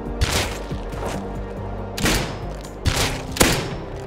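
Gunfire in the survival video game Rust, a run of heavy booming shots and thuds in quick bursts, loud and close, with rumbling between them.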